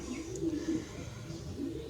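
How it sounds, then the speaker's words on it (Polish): Racing pigeons coo in low, throaty murmurs, several overlapping calls repeating steadily close by. "Tutaj prezentuję grupę doskonałych gołębi"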